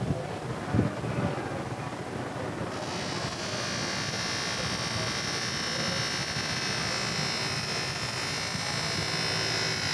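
A metal polishing machine whirs and grinds steadily, its hiss rising and holding under heavy pressure after a few seconds, loud and continuous without pauses.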